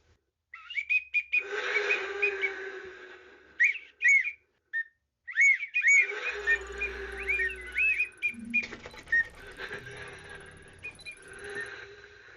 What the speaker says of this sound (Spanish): Sonidos de aire y pájaros.